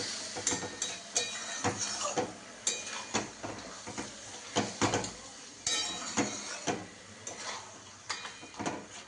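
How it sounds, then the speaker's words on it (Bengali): Mutton curry with potatoes is stirred in a pot, a spoon scraping and clinking against the metal in repeated uneven bursts, close and distinct, with no talking. "এখন এটা কষতে থাকতে হবে, যত নাড়বো তত এটা নরম হবে"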